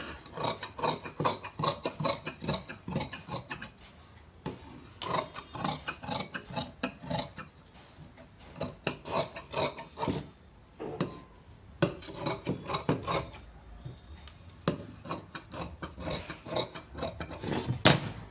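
Scissors cut cloth for tailoring in a run of rhythmic, crisp snipping and rasping strokes, close and fairly quiet, with brief pauses between bursts.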